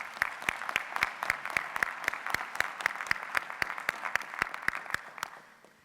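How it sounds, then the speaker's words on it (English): A university graduation ceremony audience applauds for the string quartet, with dense, sustained hand clapping filling the hall for several seconds before gradually tapering off. "Let's give them another round of applause"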